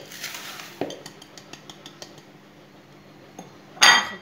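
Butter and sugar being mixed in a bowl for a banana cake, with a spoon or whisk clinking and scraping against the dish in a short series of light taps, ending in a louder clatter.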